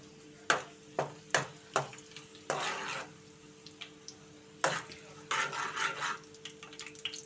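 Mustard seeds, cumin and torn dried red chillies tempering in hot oil, heard as a series of sharp clinks and taps against the pan followed by soft bursts of sizzling and stirring, fairly quiet.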